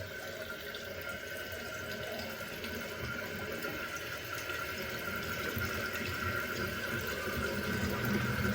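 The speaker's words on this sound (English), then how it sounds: "you can let all the water out" Water drains steadily from a toilet tank with a continuous soft rushing and gurgling, quiet and close, no voices.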